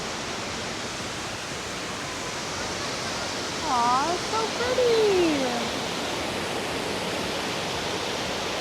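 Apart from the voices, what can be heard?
waterfall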